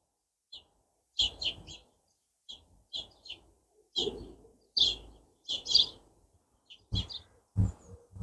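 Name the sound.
fledgling sparrow chirping in a garden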